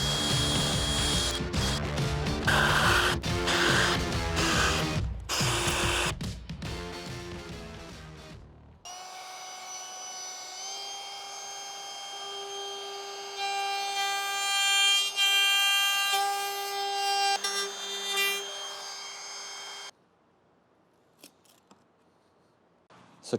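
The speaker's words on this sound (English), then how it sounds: "Now I need to cut this out. I'm gonna cut it out roughly, then I'm gonna clean up with the router" Rough cutting of a notch in wood with a power tool, dense broadband bursts and clicks for about nine seconds, then a steady high-pitched router whine with shifting tones as the cut is cleaned up, stopping near the end.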